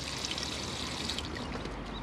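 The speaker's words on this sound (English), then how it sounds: "you'd open that up and drain the vehicle fully of water like so" Fresh water pours steadily from the drain of a Swift Select 144 motorhome, a continuous close splashing stream with no breaks.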